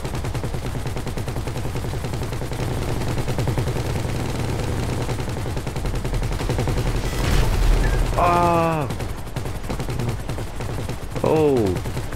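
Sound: gunfire in the video game GTA 5 Online

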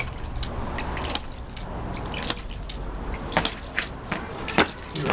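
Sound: home-built model hydraulic ram pump running, check valve clacking

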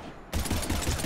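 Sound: gunfire in the video game Mass Effect 3

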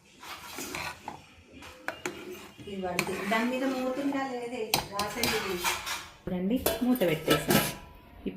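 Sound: small plate and lid placed on a cooking pot

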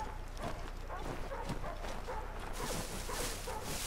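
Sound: dogs barking in a video game

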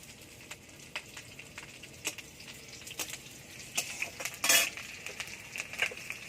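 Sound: frying chopped garlic and green chilies in oil in a wok

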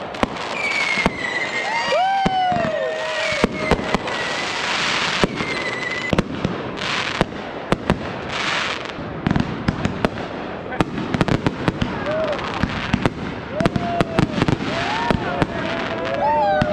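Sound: fireworks

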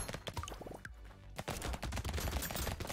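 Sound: SMG gunfire in the video game Brotato

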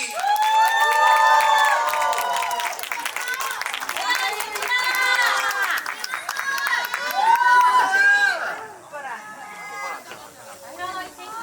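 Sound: audience applause and cheering at a dance performance

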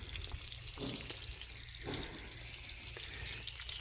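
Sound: water sprayed from a pipe splashing on laterite stone

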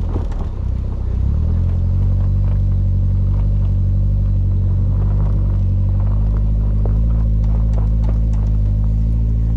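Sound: Suzuki four-wheel drive revving up a rutted hill

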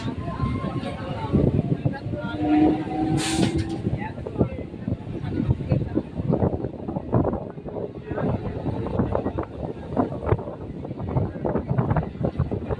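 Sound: local train leaving a station, Bali to Bardhaman chord line

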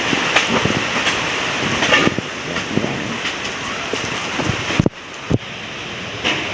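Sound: heavy rain during typhoon

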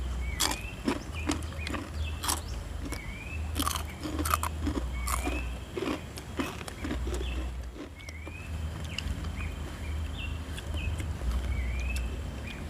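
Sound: chewing crispy fried snack

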